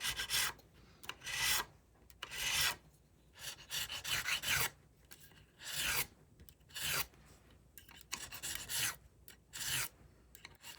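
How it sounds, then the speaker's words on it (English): A fine-cut file rasps across wood in repeated strokes, each a bright scraping burst separated by short pauses, close and fairly loud with no voices. "So I've switched up from the coarse cutting file to the fine cut."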